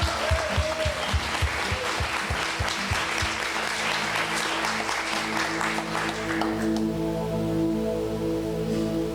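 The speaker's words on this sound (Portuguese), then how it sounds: "dá uma grande salva de palmas, irmão, para Jesus" A church congregation breaks into a big round of applause for Jesus, loud crowded clapping with some rhythmic claps over music, fading into a sustained keyboard chord and a voice.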